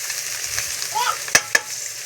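Potatoes sizzle steadily in hot tempered oil while a utensil stirs them, with two sharp knocks against the pan, close and moderately loud.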